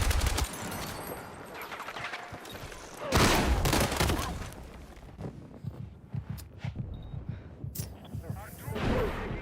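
Battlefield 6 firefight with bursts of automatic gunfire, a loud cluster of shots midway and scattered sharper cracks later, set against battlefield ambience and occasional voices.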